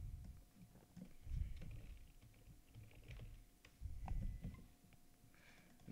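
Typing on a computer keyboard, quiet scattered key clicks in irregular short bursts over a soft low background hum.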